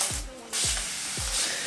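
A continuous-mist spray bottle sprays water onto knotless box braids: a soft, steady close hiss with a few repeated low swooshes across a short stretch.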